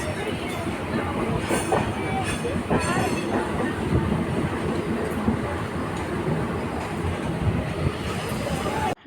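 Passenger train running on rails near Masagram heading toward Bardhaman station, heard from onboard as a steady, loud rumble with rhythmic wheel clatter and occasional squeals throughout, with faint voices in the carriage.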